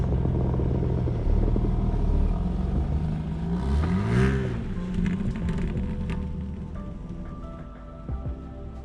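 Manual BMW G80 M3 with rear-wheel drive on all-season tires rolls down a snowy hill, a continuous engine drone swelling into a brief rev that rises and falls midway before easing off quietly.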